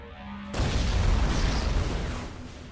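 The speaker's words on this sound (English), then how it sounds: "There's an explosion on us." A sudden explosion bursts out in the City of Heroes video game, a broad rumbling boom that hits abruptly and then fades over about two seconds.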